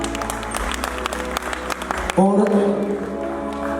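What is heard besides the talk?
applause at live show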